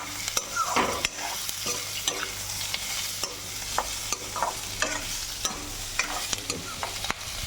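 Pork frying with onions and chillies in a kerahi, stirred vigorously: a continuous sizzle broken by repeated scraping and clattering strokes of the spoon against the metal, close and fairly even throughout.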